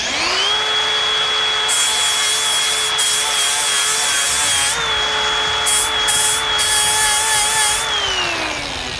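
A variable speed Flex grinder spins at 10,000 RPM, a loud, steady high-pitched whine with layered harmonic tones that dips slightly in pitch midway and then holds, with no voices.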